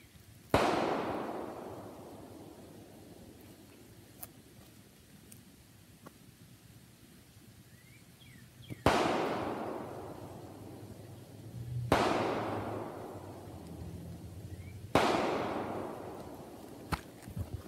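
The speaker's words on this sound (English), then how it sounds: "Someone just shot something." Distant gunshots ring out four times at widely spaced intervals while bass fishing outdoors. Each report is a sharp crack followed by a long rolling echo across open surroundings. No speech.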